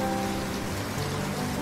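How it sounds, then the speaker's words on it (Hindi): Rain falling in a steady even hiss, continuous and moderately loud over a short stretch, with a faint low hum running underneath. "बारिश हो रही थी"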